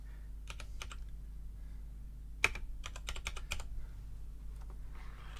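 Keys clack on a computer keyboard in short, irregular bursts of taps, close and fairly crisp, with one louder keystroke standing out over a steady low hum in a quiet room.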